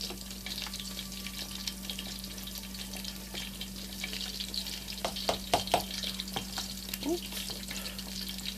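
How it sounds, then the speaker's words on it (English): Steady crackling sizzle of fish frying in a hot pan, continuous throughout with a few louder pops and spatters, no talking. "And yes, I'm still frying fish."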